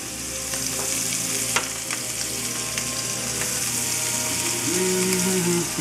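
Pork sausages browning in a pan for spaghetti sauce, a continuous close sizzle and crackle with occasional clicks of a utensil, steady throughout.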